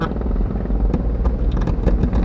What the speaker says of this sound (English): Sounds like the helicopter's above me.